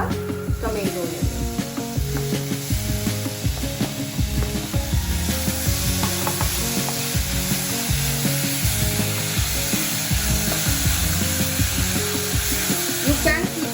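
Onions and tomatoes fry hard in a pan over a high gas flame, giving a steady loud sizzle mixed with scraping and stirring, while a voice talks quietly underneath.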